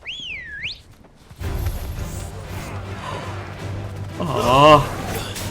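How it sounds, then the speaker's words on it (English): A whistle in Final Fantasy XVI sounds as a rising and falling tone at the start, followed by game ambience and a voice speaking. "I guess I heard the whistle."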